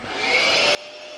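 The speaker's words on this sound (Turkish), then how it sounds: "böyle çamaşır katladığım zaman o odayı tekrar süpürürüm" A vacuum cleaner runs loudly and close while a room is swept after laundry folding, a steady roaring whine that cuts out sharply partway through, leaving a faint hum.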